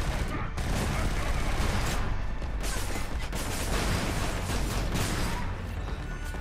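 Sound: shotgun fire in the video game Killzone Shadow Fall

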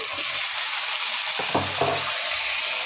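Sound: tomatoes frying with onions in oil

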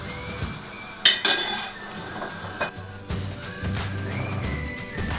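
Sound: lid taken off a boiling pot of köfte

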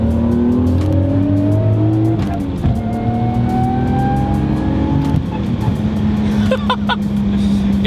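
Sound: 1983 Toyota Celica with big turbo 1JZ engine driving

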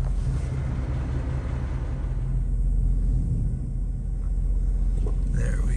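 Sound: vehicle pushing a stalled stranger's car on highway

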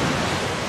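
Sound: driving through a waterfall in video game Uncharted 4

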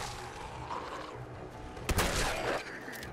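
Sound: legendary shotgun firing at ghouls in video game Fallout 4

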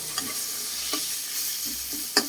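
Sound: stir-frying khao soi

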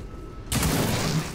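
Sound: gunfire from the video game XCOM 2 War of the Chosen

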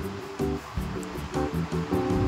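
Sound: sea waves and current at Gomti Ghat

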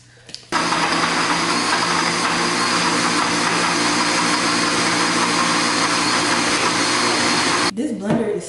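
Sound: old Black & Decker blender running

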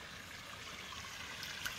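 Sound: water flowing over stones at Gandahati waterfall

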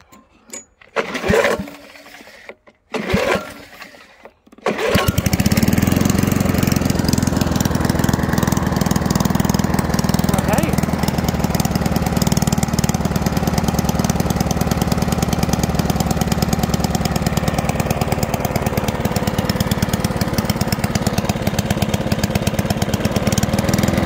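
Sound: Mountfield M6 PowerDrive 1985 lawn mower engine running

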